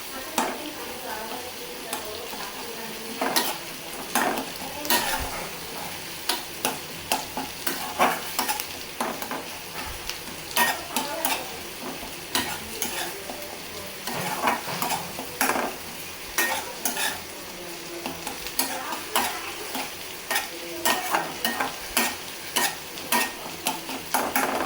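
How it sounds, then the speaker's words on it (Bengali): Fish masala being stirred and fried in a pan, a continuous soft sizzle broken by repeated scraping strokes of a utensil against the metal, close up and fairly quiet, with no talk. "মাছের মশলাটা একটু কষাইতে দিলাম।"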